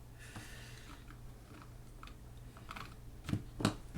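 A few keystrokes on a keyboard plugged into an iPad, soft and sparse at first, then two louder, sharper taps near the end over a low background hum, with no talking.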